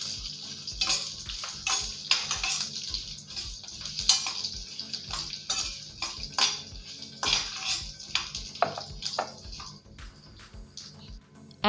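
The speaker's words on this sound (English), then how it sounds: "Fry them until the Bengal grams turns brown and crispy." Bengal gram frying in oil until brown and crispy: soft, uneven crackling and popping bubbles with occasional light pan clinks, fairly faint and close.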